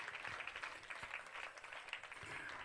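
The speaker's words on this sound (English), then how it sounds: "ladies and gentlemen, give yourselves a round of applause" Audience applause at a powwow dance gathering, a faint, distant patter of clapping that continues steadily for the whole short stretch.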